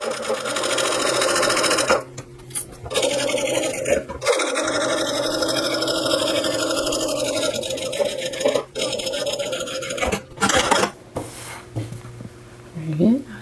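A sewing machine stitching fabric for a small glasses bag, running in close bursts with brief pauses and restarts while someone talks over it.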